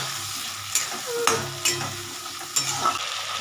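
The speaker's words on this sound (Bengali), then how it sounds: "আলুটা ভাজা হচ্ছে" Potatoes sizzling and frying in a pan, with several sharp scraping stirs of a utensil at intervals.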